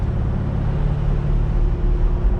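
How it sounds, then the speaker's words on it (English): A deep, throaty aftermarket exhaust on a C8 Corvette rumbles steadily at close range, a low continuous burble with no voices. "that exhaust sounds awesome now"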